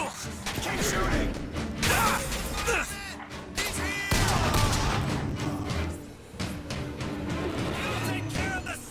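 Heavy gunfire fills a BioShock Infinite battle, dense volleys and crashes over nearly nine seconds, with shouting voices mixed in.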